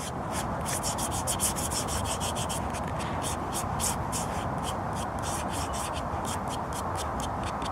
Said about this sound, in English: And then what you want to do now is just rub it just into the leather.